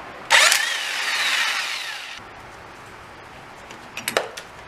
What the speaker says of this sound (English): the 12 millimeter nut on the compressor is kind of being a pain because it'll just spin, so I'm going to go ahead and use an impact